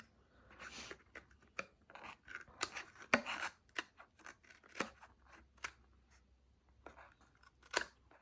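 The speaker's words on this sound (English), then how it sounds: "I'm going to see if I can sneak in and take my paper snips just to trim this off" Paper snips trim scored paper during craft box-making in a rapid series of sharp, close snips and rustles, irregular in rhythm, with no talk.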